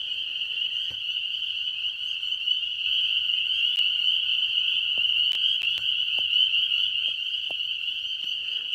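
Spring peeper frogs call in a dense, steady high-pitched chorus that runs unbroken throughout, loud and close, with a few faint clicks scattered over it.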